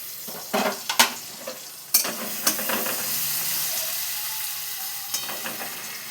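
Grated ginger with chili and Kashmiri chili powders hits a hot pan, a bright sizzle that settles into steady close frying, punctuated by a few sharp scrapes and knocks of a spoon stirring.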